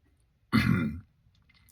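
A single short throaty cough or throat-clearing burst, close and fairly loud, lasting about half a second before quiet returns.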